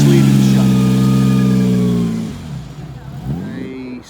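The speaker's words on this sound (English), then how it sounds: "And here's that MG, if you can hear me, just leaving the shop." A pre-war MG sports car's engine revs loudly nearby, then the sound drops as it pulls away from a shop, leaving quieter engine noise fading off.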